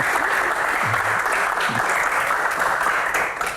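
A studio audience at a televised Q&A session breaks into sustained applause, dense and even throughout, with a few faint voices underneath.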